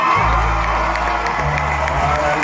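Audience at a tribute performance applauding and cheering for a performer, a loud crowd roar with whoops and shouts under a steady bed of clapping, with low music tones running underneath.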